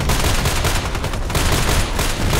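Rapid DT SRS sniper rifle fire in the video game Contract Wars, a dense, loud run of gunshot blasts packed closely together with no speech over it.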